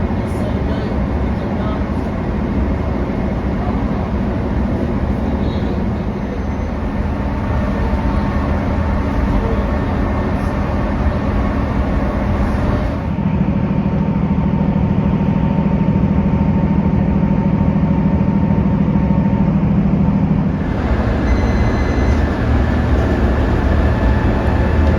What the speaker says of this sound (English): This is a CTA bus at full speed.